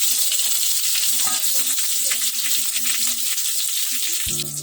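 Curry leaves crackling and sizzling loudly in hot oil with mustard seeds and dried red chillies, a dense, spitting fry throughout, close up, with a brief clunk near the end.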